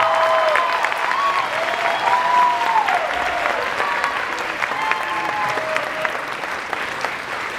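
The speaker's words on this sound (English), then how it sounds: "I would like to give a huge round of applause to all of our party leaders" An audience at a high school senior debate gives the party leaders a sustained round of applause, dense clapping from a hall crowd that stays loud throughout.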